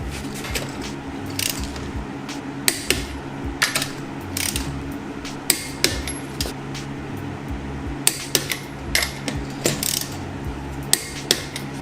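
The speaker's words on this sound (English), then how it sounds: "So get your torque wrench, set it to the correct specs." A torque wrench tightens wheel lug nuts on a Mazdaspeed Miata, giving repeated small metallic clicks and ratcheting ticks at irregular intervals over a low background hum.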